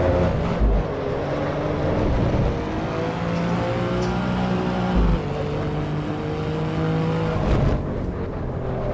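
Car engine heard from the cockpit in the Assetto Corsa Evo racing video game, a loud, steady harmonic drone that rises and falls through shifts and revs, continuous throughout with no talking.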